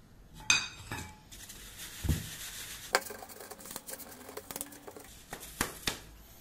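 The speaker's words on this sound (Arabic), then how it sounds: "ونخلطوهم شويه بيدينا" Sugar, vanilla sugar, baking powder and orange zest being mixed by hand in a bowl for Tunisian ghriba, heard as soft rubbing and grainy rustling with occasional clinks of the bowl, close and fairly quiet, no talking.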